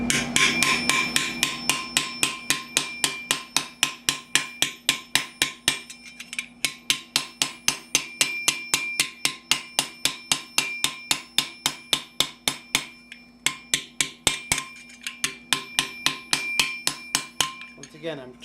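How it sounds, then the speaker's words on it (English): Hammer strikes on steel gauntlet plate for Milanese mitten gauntlets circa 1450, shaped over a ball stake, a long steady run of sharp ringing metallic blows in quick rhythm with brief pauses, close and loud. "As I hammer, I'm pulling as I go."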